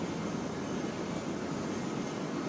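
Jet engine of an English Electric Lightning fighter in the X-Plane flight simulator, a steady, unbroken broadband roar of constant loudness.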